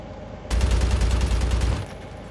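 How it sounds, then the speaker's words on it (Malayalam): Sustained burst of rapid automatic gunfire in the Call of Duty Mobile battle royale game, loud and dense for over a second before cutting off, with no talk over it. "എല്ലായിടത്തും കൊടുക്കുകയാണ് വെടി"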